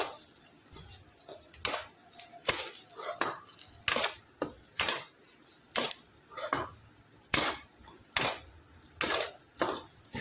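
Ground coriander, cumin and other spices stirred in a cooking pan with a spoon, giving repeated close scraping strokes in an irregular rhythm over a soft sizzle.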